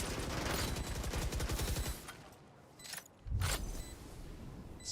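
A single loud Outlaw sniper rifle shot in the video game Valorant, preceded by rapid rattling gunfire bursts, with a sharp crack and echo near the end of a short esports match moment.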